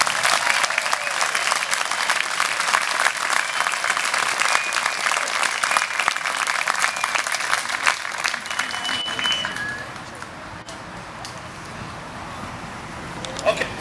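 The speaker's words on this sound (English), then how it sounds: "let's give a round of applause for the orange shirts with a little less for me this year" Sustained audience applause for event volunteers in orange shirts at a spring outdoor gathering, dense clapping throughout that thins slightly toward the end.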